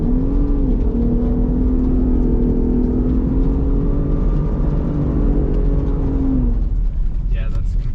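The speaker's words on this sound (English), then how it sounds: "We're gonna see how the Raptor does the burnout." Ford Raptor truck doing a two-wheel-drive burnout, engine held at a steady high drone for about six seconds, close and loud, then cutting off as the revs drop.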